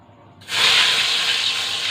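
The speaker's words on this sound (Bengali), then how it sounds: "এখন আমি কড়া বসিয়েছি, বেগুন ভাজছি" After a brief quiet moment, a loud burst of hissing sizzle erupts as eggplant hits hot oil in a wok, then continues steadily.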